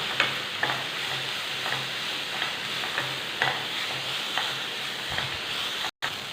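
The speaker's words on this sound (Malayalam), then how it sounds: "ഇനി നമുക്ക് ഈ സവാള നല്ല രീതിയിലൊന്ന് വഴറ്റിയെടുക്കണം" Sliced onions sautéing with salt in a pan, a continuous soft sizzle under evenly spaced scrapes and knocks of a spoon stirring, close and moderately loud, with no talking.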